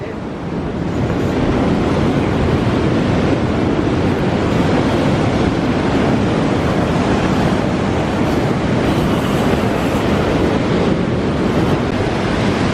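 Sea waves on the North Yorkshire coast at Sandsend make a loud, continuous surf roar on a wet, windy day, with wind buffeting the microphone throughout.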